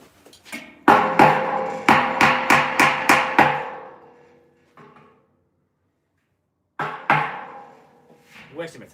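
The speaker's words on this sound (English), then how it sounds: "You like the world oldest hammer?" A very old hammer strikes metal scrap about eight times in a quick, fairly even rhythm, close and sharp, followed by a pause, a lone tap, silence, then another burst of hits.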